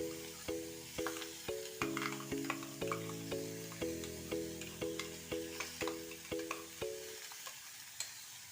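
A ground masala mix for a vegetable masala sizzles softly in a pan and is stirred in a steady rhythm of repeated scraping strokes, with faint tonal music running under it.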